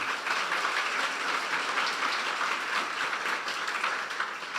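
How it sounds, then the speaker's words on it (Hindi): Steady, dense clapping from a church congregation during a Hindi-language sermon fills the room continuously, a broad even wash of many hands at moderate distance with no pauses. "फिर ताली बजा दें यीशु के लिए।"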